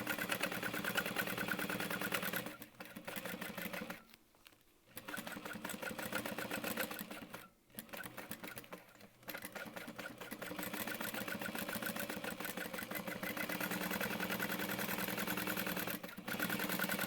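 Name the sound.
sewing machine stitching crossbody bag pieces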